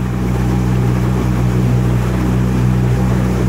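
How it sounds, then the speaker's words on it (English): A boat motor drones steadily with a low hum, mixed with rushing water and wind noise, continuous and fairly loud. "it's still a really, really quiet motor"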